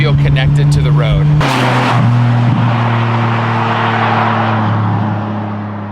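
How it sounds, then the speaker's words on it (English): A front-engine Ferrari V12 with rear exhaust drones loudly at steady pitch, then shifts as a gear change brings a brighter surge before slowly fading. "I am experiencing the sound of a front engine V12, rear exhaust that sounds amazing"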